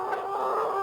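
An Australorp hen clucks in a short, close, sustained call, heard on its own for under a second.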